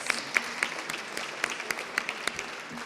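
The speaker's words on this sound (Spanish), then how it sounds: "al quien le damos las gracias y un gran aplauso por venir a apoyar estas tareas" Clapping breaks out for an undersecretary at the opening of an exhibition on women teachers in post-revolutionary Mexico, a moderate scattering of individual hand claps with sharp distinct hits that keeps going throughout.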